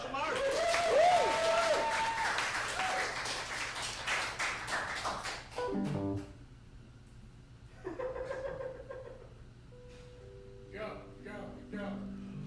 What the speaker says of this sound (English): Let's give another round of applause for Sasha Mark